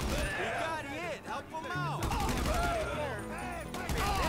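Bursts of automatic gunfire in GTA Online survival mode, rapid crackling volleys repeating throughout, mixed with excited voices talking over the shooting.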